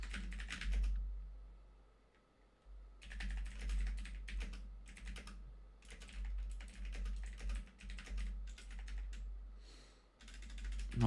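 Rapid clicking on a computer keyboard comes in bursts, with short pauses between runs of keystrokes, fairly close and moderate in level over a low background hum.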